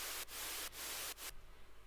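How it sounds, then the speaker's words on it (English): Bursts of loud hissing white noise, used as a CO2-cannon effect in a big-room techno track: three sharp surges cut by brief gaps, then quieter crackle and a short final burst. "We have a CO2 can, as I've called it, but it's basically just white noise."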